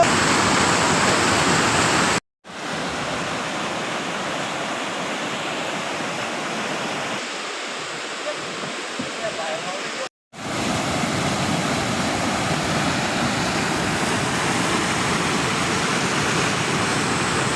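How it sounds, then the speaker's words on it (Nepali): Steady broadband rush of a village waterfall and stream dammed to divert water, loud and continuous, with two brief dropouts to silence. "यो झरना खोला यसरी ड्याम गरेर गाउँ गाउँमा लाने गरेछ पानी"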